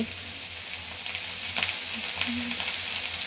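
Chopped carrots, beans and papaya hit a hot frying pan for fried rice, a soft steady sizzle with light stirring scrapes, close and quiet, no talking.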